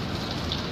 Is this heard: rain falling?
yes